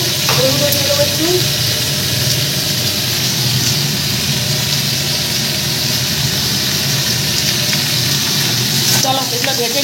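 Spices with salt and turmeric frying in a pan for a home-cooked Bengali dish, a loud, constant sizzle with stirring scrapes running throughout.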